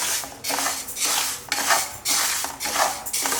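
Moong dal is dry-roasted in an empty pan, with a ladle scraping and rattling against the metal in repeated rhythmic strokes. The stirring is loud and close.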